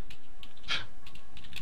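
A few crisp clicks from a clicky computer keyboard, close up, with one louder keystroke near the middle and quiet gaps between.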